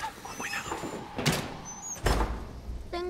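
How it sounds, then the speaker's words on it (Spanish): A door in an apartment building closed carefully, with soft scrapes and a couple of brief thuds and sliding sounds spread across a few seconds, fairly close and quiet. "Cierra la puerta, con cuidado."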